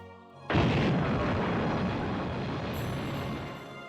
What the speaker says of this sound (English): The deep, muffled sound of an explosion breaks the nighttime silence.